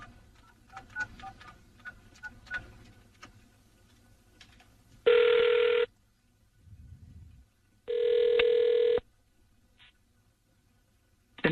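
Telephone call being dialed: a string of faint dial clicks and tones, then two long, loud ringback tones separated by a pause, with no talking.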